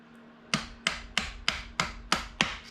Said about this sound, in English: A little rubber hammer.